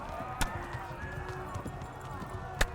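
Horse hooves clip-clop at a gallop in the medieval video game Kingdom Come: Deliverance, a quiet, steady rhythm under game ambience and someone talking.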